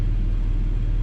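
A 2020 Toyota Supra with an Eventuri carbon intake runs its engine, giving a loud, deep, steady rumble at close range with no voices.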